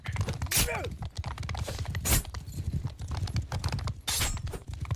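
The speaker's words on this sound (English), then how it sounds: "He's gotta kill this horse for sure." Horse hooves clip-clop in a competitive video game match, quick and rhythmic against busy game effects and occasional sharp crashes, while commentators talk over them.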